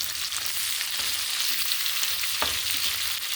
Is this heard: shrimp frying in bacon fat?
yes